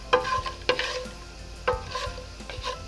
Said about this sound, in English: So you can see they'll sizzle like this